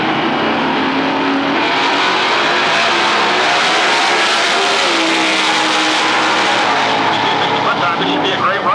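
A Pro Stock drag race car making a run at Atlanta Dragway in Commerce, Georgia, a dense sustained engine roar heard from a distance, with an announcer talking over it throughout.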